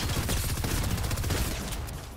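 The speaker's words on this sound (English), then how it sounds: "Gonna use the rapid fire here." Rapid-fire weapon shots in a Fortnite-style battle game, a dense fast burst of gunfire crackling loudly and continuously for about two seconds before easing slightly.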